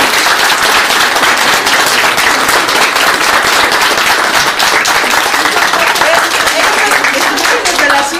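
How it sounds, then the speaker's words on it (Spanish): Loud, dense applause from a close crowd at a community garden gathering honouring the ladies, sustained for several seconds as a thick, continuous rush of clapping with voices mixed in. "pues yo quisiera que les diéramos un aplauso a las señoras."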